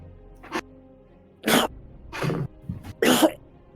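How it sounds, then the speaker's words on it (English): Several harsh, breathy bursts spaced out slowly, like weak coughs with raspy breathing between them, close by with no talking. "You just hear like slow coughing and like a wheezing."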